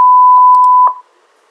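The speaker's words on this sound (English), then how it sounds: "By modifying frequency range, you will notice that the signal wave change and even the sound." A generated electronic signal tone holds one steady pitch for about a second with brief blips and clicks, then cuts off into near silence.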